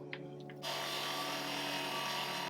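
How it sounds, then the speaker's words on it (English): A sander grinds down a steel clutch part for a Puch E50 moped, starting abruptly after a brief quiet moment and then running as a loud, steady, close abrasive whine. "This time I'm actually going to use a sander."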